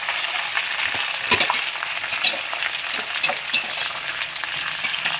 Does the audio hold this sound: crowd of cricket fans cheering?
no